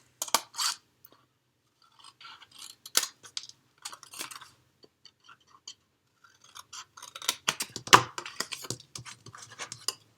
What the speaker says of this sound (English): I just find it helpful to trim the tabs just a little bit